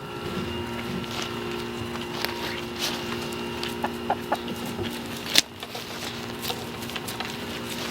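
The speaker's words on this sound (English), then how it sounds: "let the chickens eat their food inside their pen" Chickens cluck and murmur near a rabbit hutch and pen, soft repeated clucks and calls over a steady background hum, with a sudden knock partway through and no talking.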